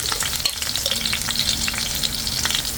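Squid adobo sizzles and crackles steadily in a hot pan while being stirred, a dense, close frying hiss with the scrape of a utensil and no voices.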